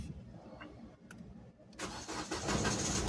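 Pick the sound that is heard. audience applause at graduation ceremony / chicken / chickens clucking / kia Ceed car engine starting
kia Ceed car engine starting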